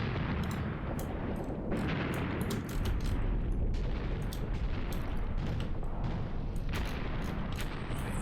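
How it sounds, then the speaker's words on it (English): Mortar rounds bursting in the war game Graviteam Tactics: a rolling, rumbling barrage with frequent sharp thuds and cracks landing at uneven intervals, heavy and continuous without speech. "there's a couple of rounds in. We only have 3 mortars there, I suppose."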